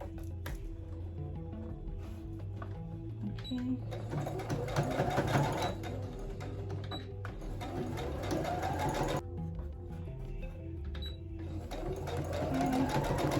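Sewing machine hemming a small lace summer top made from scrap fabric, running continuously close by with uneven speed and small clicks, under a low background hum.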